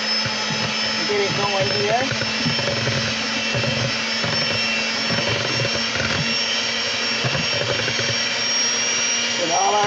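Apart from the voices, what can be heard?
electric mixer mixing butter for pound cake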